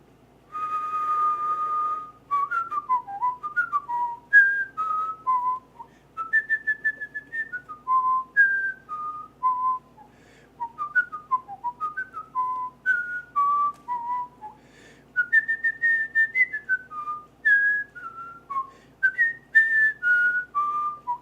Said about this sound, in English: Now that was a whistling song.